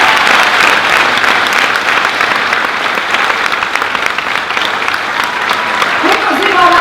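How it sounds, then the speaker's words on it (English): Loud, dense audience applause fills the hall at an autism talent show as a guest is called to the stage, steady throughout with a brief voice near the end. "So a big round of applause"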